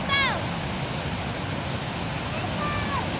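Steady roar of Victoria Falls where the Zambezi River drops over the edge, a broad continuous rush of falling water heard up close, with brief whistling tones over the top near the start and end.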